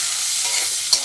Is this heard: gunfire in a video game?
no